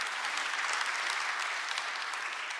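Steady audience applause fills a government policy briefing hall after a speaker is introduced, a dense even wash of clapping at a constant level throughout.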